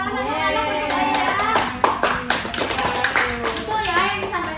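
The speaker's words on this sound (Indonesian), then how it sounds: "Boleh tepuk tangan anak-anak untuk Aida." Children in a classroom clap for a classmate after her presentation, a scattered run of hand claps over a noisy room with voices and a tonal hum throughout.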